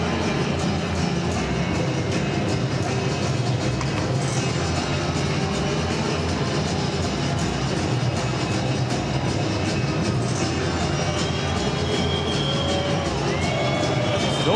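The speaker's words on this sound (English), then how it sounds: "the crowd getting restless now" A large crowd at an ice hockey arena, Finland against France late in the third period, keeps up a dense, continuous roar and murmur with scattered whoops, loud and unbroken throughout.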